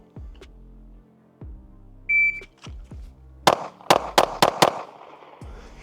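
Five sharp pistol shots from an Arma Zeka AZ-P1 Vigil at a range, fired in quick succession after a shot-timer beep, loud and close, preceded by soft thuds and clicks of drawing from a holster.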